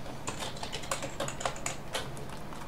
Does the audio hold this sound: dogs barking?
no